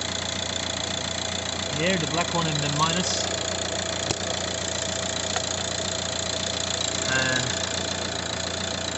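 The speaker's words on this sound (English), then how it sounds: "Going over to the engine with it running." A car engine idles steadily with the hood open during an alternator charging check, a constant mid-low hum running throughout beneath a man's close-up talking.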